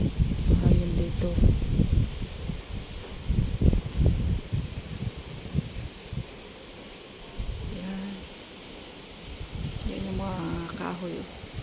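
Strong typhoon wind in Hong Kong gusts loudly against the microphone with rustling leaves, easing in the middle, while a person talks.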